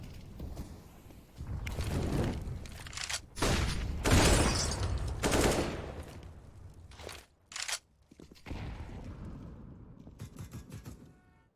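Counter-Strike match on the Train map, grenades thrown and bursting amid gunfire, a series of loud, choppy blasts and crunching impacts separated by brief quiet gaps.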